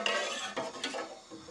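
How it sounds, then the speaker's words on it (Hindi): A spoon stirs milk heating in a pot while making paneer at home, with soft metallic scraping and light clinks against the pot over a steady bubbling wash, close and continuous. "एक चम्मच की मदद से इसको हलाते रहना है आपने"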